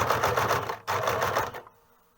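A sewing machine runs a narrow seam on a fabric hood, two close rapid mechanical bursts of stitching with a brief pause between, then it stops.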